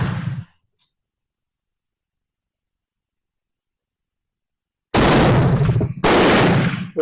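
A Snider rifle, an English commercial breech-loader, fires brass shotgun shells: two loud, sharp blasts about a second apart break a long silence, each with a brief ringing tail, after a short burst of sound at the start.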